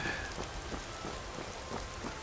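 Steady rain in Skyrim, a dense continuous patter of drops on the ground with a soft wash of noise throughout, no voices.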